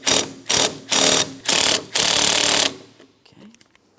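A ratchet loosens the 15mm radiator mounting bolt on a 2004-2008 Pontiac Grand Prix 3.8L V6, with five quick, loud bursts of close clicking, the last one longer, then a quiet stretch with faint handling noises.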